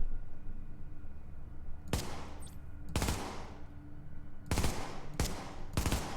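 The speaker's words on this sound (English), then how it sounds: "It's actually hard to fire just one shot. The rate of fire on this thing is so high." Shots from a submachine gun in the video game The Division, five sharp bursts at irregular intervals over a steady low background hum, loud and close, with no talking.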